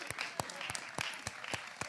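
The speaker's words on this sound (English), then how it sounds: "round of applause" Audience applause at a music conference comes through as steady, fairly faint clapping from a crowd with irregular sharp claps scattered through it, heard from some distance.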